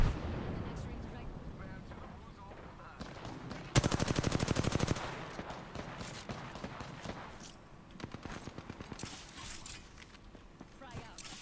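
Gunfire and a grenade blast in a video game, with a dense burst of rapid automatic shots in the middle and scattered bangs around it, heard under ongoing voices.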